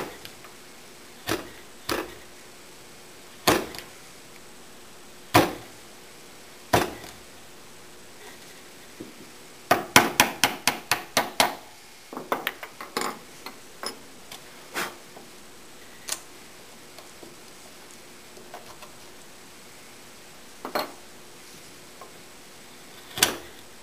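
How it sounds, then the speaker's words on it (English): A small fishtail chisel cleans out wooden dovetails for a veneered desk, giving sharp isolated taps and scrapes spaced apart with a quick run of rapid clicks midway, close up in a quiet workshop with no talk. "I find a little fishtail chisel works best for cleaning out"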